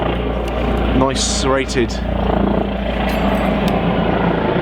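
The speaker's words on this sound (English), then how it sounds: "Helicopter going overhead there." A helicopter drones overhead in a steady, moderately loud whir outdoors beside a portable BBQ, while someone talks over it.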